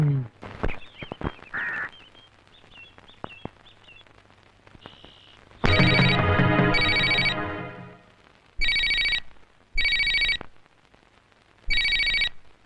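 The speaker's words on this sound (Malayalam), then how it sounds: "ബെല്ലടിക്കുന്നത് കേട്ടില്ലേ" A telephone ringtone in a Malayalam film scene sounds loud and near in four repeating electronic bursts with gaps between them, following a stretch of quieter talk and background sounds.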